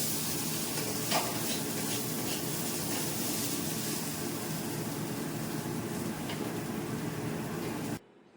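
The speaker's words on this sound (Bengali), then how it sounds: "চাল ভাজাটাও প্রায় হয়ে এসেছে।" Rice dry-roasting in a home kitchen pan gives a steady, dense hiss with light scraping and crackle throughout, fairly close and even, stopping abruptly near the end with no voices.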